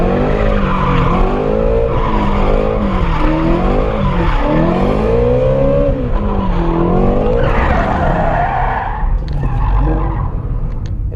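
A 2017 Shelby GT350 drifts through transitions, tires squealing in long wavering wails over a loud, sustained engine roar close by.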